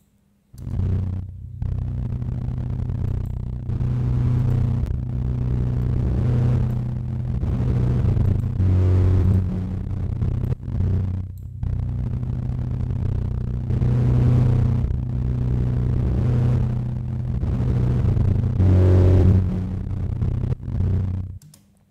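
A piano pushed hard through a saturator in Ableton Live 11, turned into a thick, gritty low drone with a repeating pattern that swells and loops steadily for about twenty seconds, with no voice over it.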